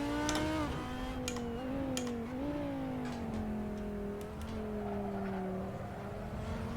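A Formula 1 car engine in the Assetto Corsa racing game revs high and steady, pitch climbing and dipping through gear changes as it accelerates hard out of a corner, with brief clicks over the continuous whine.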